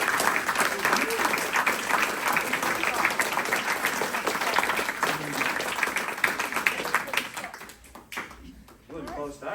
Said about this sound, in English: So let's have a round of applause to Mrs. Jessica Ulia.